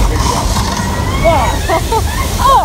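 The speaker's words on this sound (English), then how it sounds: "This flash flood here is produced by using thousands of gallons of recycled water that are pumped to the top of the building" A flash flood effect on a Universal Studios tour, where thousands of gallons of recycled water pumped to the top of a building pour down in a steady loud rush and slosh, with crowd chatter and excited voices over it.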